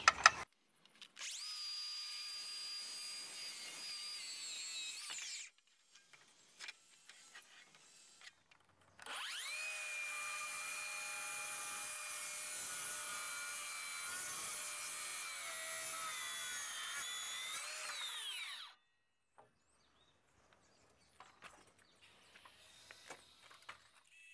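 A saw cuts into a 5x7 wooden rafter in two long steady passes, each several seconds of loud, even buzzing whine, separated by quiet pauses with light handling knocks, and no talking.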